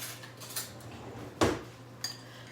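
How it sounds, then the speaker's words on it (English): Stir-fry being stirred in a pan with a utensil, with seasoning packets added: a few soft scraping clinks of metal on pan, one louder stroke in the middle and a lighter one near the end, over a low steady hum. "Let me stir it up a little bit here."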